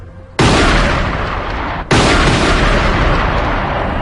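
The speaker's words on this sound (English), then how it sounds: "Outside, the police hear gunshots." Two loud, sudden gunshots inside an embassy about a second and a half apart, each leaving a sustained roaring wash of noise behind it.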